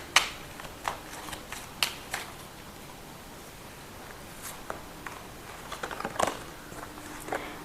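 Tarot cards are drawn from a deck with soft, close shuffling and sliding, broken by a few sharp flicks and taps over a quiet, even background.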